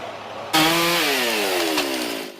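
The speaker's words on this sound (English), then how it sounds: "A usually quiet neighborhood now filled with the noise of chainsaws" Chainsaws roar as they cut up a tree felled by severe weather in a quiet residential neighborhood, starting abruptly and holding a steady, loud whine with slowly falling pitch as the engine loads in the wood.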